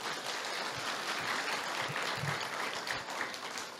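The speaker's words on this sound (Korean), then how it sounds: "박수!" Attendees at the opening of a Korean occupational health and safety forum give a steady round of applause, moderately distant and even in level, with no speech over it.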